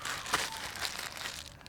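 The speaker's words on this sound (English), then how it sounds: "Plastic bag." A plastic bag being handled, a brief burst of close, crisp crinkling and rustling with no voices.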